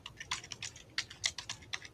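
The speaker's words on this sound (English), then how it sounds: "you got a mega loud keyboard" Rapid typing on a loud keyboard with big keys: a steady run of sharp, close clacking keystrokes in uneven bursts over a low background hum.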